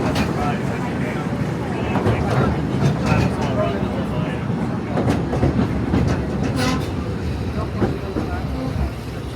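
The Walt Disney World Railroad train rumbles steadily along the rails with a continuous rattling clatter, loud and close, sustained throughout.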